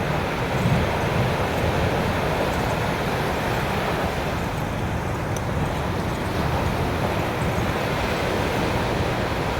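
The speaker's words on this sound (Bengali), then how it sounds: "প্রতিটা ঢেউ আসছে আর প্রচণ্ড শব্দ।" Loud, continuous roar of ocean surf breaking on Marina Beach in Chennai, a steady broadband wash of crashing waves with wind buffeting the microphone and no clear gaps between swells.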